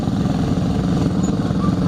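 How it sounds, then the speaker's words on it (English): Engine of a custom little tractor rolling past in a farm show tractor parade, a steady, loud, rough low rumble that runs the whole time with no break, with some voices underneath it. "Another custom little tractor right here."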